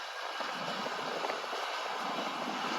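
A John Deere combine harvester runs steadily at harvest, a continuous broadband engine and machinery roar held at an even level throughout, with no talk.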